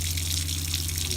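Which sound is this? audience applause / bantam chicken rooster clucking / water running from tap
water running from tap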